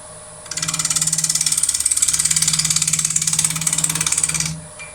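A wood lathe spins a cracked bowl blank at about 1000 RPM, giving a steady, close whirring drone with a fast pulsing rhythm that starts abruptly, holds evenly for roughly four seconds, then stops.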